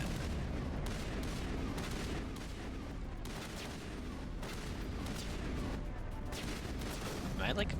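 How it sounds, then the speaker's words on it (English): Gunfire rattles through a battle in Mass Effect, dense bursts and booming shots layered over a constant rumble of combat, with a voice speaking over the din. "What are they shooting at?"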